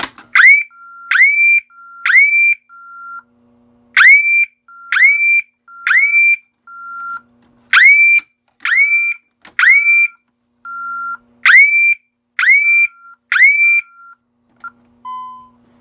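A Honeywell Ademco Wave 2 alarm siren blares loud and close in repeated groups of sharp rising electronic whoops, three to four in each burst, separated by brief gaps, with no talking.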